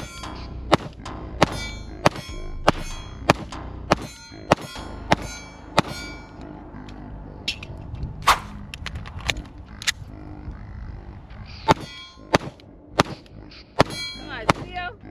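Sig P229 Pro Cut pistol fired in a steady string of sharp, loud shots at roughly even intervals, each crack ringing with a metallic clang, with brief gaps between groups.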